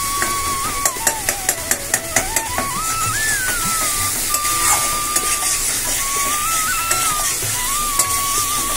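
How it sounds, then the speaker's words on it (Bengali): Spices and small boiled potatoes frying in a pan, a continuous close sizzle with a quick series of spatula taps early on and a whining tonal sound drifting over it. "দেখো ভালো করে মশলা কষিয়ে নিচ্ছি"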